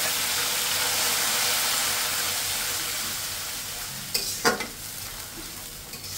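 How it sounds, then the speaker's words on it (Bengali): Ginger-garlic paste and ground cumin sizzle steadily in hot oil in a pan, a dense continuous frying hiss that eases slightly, then a few sharp scraping stirs near the end; no voices. "এখানে আমি অর্ধেকটা আদা রসুন পেস্ট দিয়ে দিই।"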